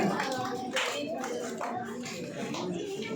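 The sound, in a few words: audience clapping at a teachers day event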